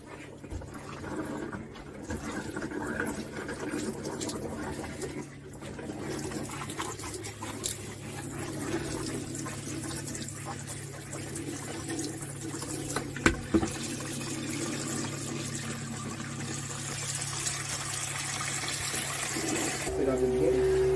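Water running from a tap and shower head aboard a boat, a steady hiss and patter lasting throughout at moderate level, with people talking now and then and a pump-like hum starting near the end.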